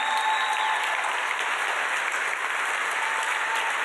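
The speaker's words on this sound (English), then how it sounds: "Another round of applause for Sarah, who truly is the heart of this organization." Applause from the audience at a heart benefit program honoring Sarah, a steady, full crowd clapping that holds at an even level across the whole stretch with no talk.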